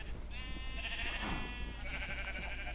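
A single sheep in Minecraft lets out a drawn-out, wavering bleat lasting over a second, then a shorter follow-up cry, both clear and close against a low constant hum.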